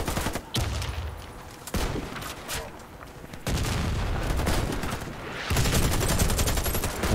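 Loud, near gunfire from a free online shooter video game: rapid automatic bursts and sustained fusillades that roll on almost without pause, with short gaps between heavy volleys.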